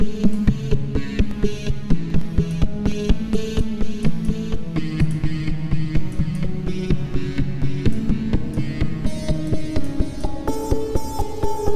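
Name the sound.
synth sound in Serum with delay and reverb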